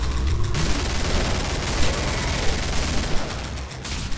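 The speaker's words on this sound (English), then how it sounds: "There's no recoil with this gun." Rapid automatic fire from a bullpup rifle in the video game Killing Floor, a dense continuous burst of gunshots with a busy game-sound backdrop and no gaps in the shooting.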